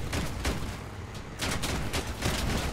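Gunfire in the Crossout vehicle-combat game, a rapid run of loud, close, noisy bursts that repeat in quick succession with no voices over them.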